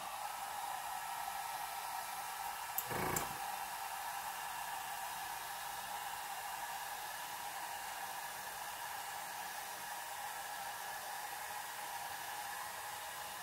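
A hair dryer set on low blows steadily to dry alcohol ink, a constant airy whoosh running alone from start to finish at moderate level, with one brief knock near the beginning.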